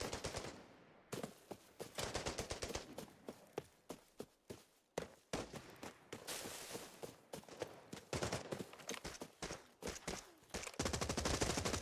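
Rapid automatic gunfire from SA-58 and RPK rifles in the shooter game Arena Breakout Infinite, long sharp bursts of shots in a fast steady rhythm with brief gaps, loud and close.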